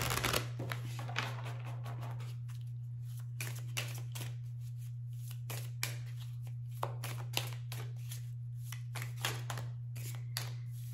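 Tarot cards shuffled by hand in a quiet room, a steady run of soft papery riffles and taps with small clacks scattered throughout, faint and close, over a constant low electrical hum.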